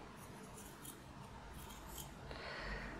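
Scissors cut a sheet of paper in half for a collage masterboard, with a few soft snips, then a brighter, closer slice near the end, over light room noise and no speech.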